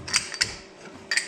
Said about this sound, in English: I'm gonna get this little breaker bar because these are a little bit tight.